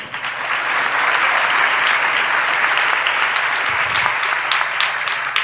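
A congregation at a Telugu Christian church service breaks into loud, sustained applause, a dense steady clapping that holds evenly from start to finish with no talk over it.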